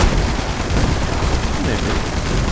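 Rapid gunfire in Fallout 76, a dense run of shots throughout at steady loudness.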